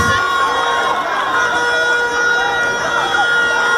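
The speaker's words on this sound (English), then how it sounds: "parents standing up, screaming, shouting, cheering" Parents and coaches fill a swim meet pool deck in Kingston, Jamaica with loud, continuous cheering, shouting and screaming during a race heat, with children's shrieks and chatter mixed into the dense crowd roar.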